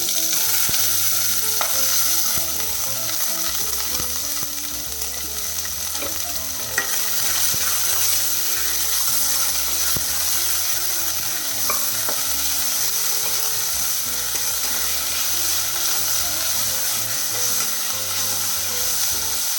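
Chopped vegetables sautéing in a hot pan for upma, a steady close sizzle and frying hiss with occasional stirring scrapes, continuous throughout with no talking.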